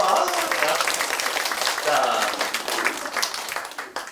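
Applause from a community workshop audience in Ssangmun 2 and 3 dong, dense scattered clapping that holds steady for about four seconds and thins toward the end, with voices mixed in.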